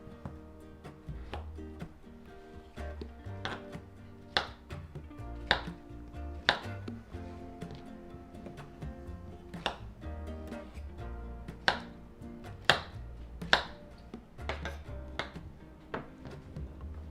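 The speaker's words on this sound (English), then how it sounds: "we're going to be cutting the squash up into like 1-inch cubes" A knife chops squash into roughly one-inch cubes on a cutting board, giving a steady run of sharp knocks that grow louder and more spaced toward the end, with no talking.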